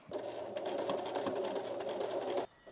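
A sewing machine runs a continuous burst of stitching through sweater fabric, its rapid whirring buzz loud and close for about two and a half seconds before cutting off abruptly.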